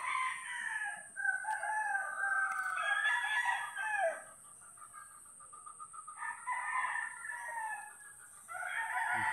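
Chickens and a rooster on a Philippine backyard farm, with repeated loud crowing and clucking close by. No talk is heard under the birdsong.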